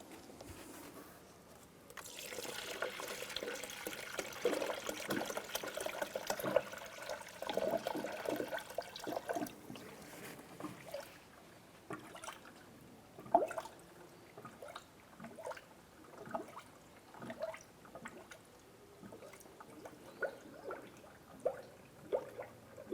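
Coolant being poured into the engine of a 1994-2004 Chevrolet S-10 during a water pump replacement, a close gurgling stream that runs steadily and then breaks into scattered splashes and drips.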